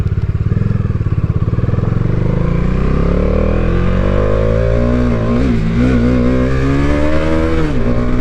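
A Bajaj Dominar 400 motorcycle engine revs hard at high rpm and accelerates, its pitch climbing and wavering as it pulls away, loud and close throughout.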